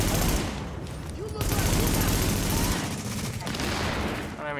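Loud, dense bursts of automatic gunfire rattle almost without pause in the video game The Division, repeated volleys filling the whole stretch with brief gaps between them.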